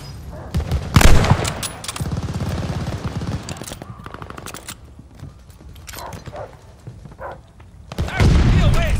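Mortar barrage and gunfire in Call of Duty: Vanguard, with loud booming impacts and bursts of rapid fire, separated by quieter stretches and ending in a heavy blast.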